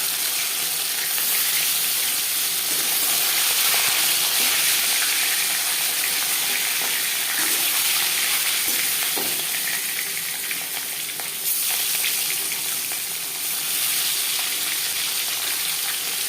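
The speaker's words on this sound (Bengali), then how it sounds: "পরিমাণ মতো রিফাইন্ড অয়েল গরম করে নিয়েছি। এবার দিয়ে দেব ম্যারিনেট করে রাখা মাছ।" Marinated katla fish sizzles in hot refined oil in a kadai, cooked for katla kalia. A loud, steady hiss and crackle runs unbroken throughout, with no voices.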